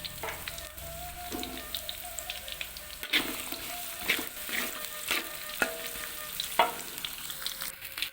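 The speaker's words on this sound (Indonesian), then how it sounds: "Kita tumis hingga kuning keemasan." Shallots sautéing in a pan until golden for beef intestine gulai, a steady close sizzle and crackle of frying with occasional clinks and scrapes of stirring, no voices.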